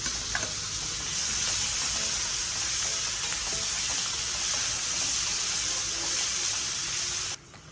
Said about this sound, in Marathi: आता आपण याच्यामध्ये बारीक चिरलेला कांदा टाकूया।